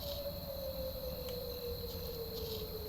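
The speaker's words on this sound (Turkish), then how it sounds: "Siren çalıyor." A steady electronic siren-like tone from the horror game Siren Head: Retribution drones continuously with a slow downward drift, layered over a dense hiss and a high whine, with no speech.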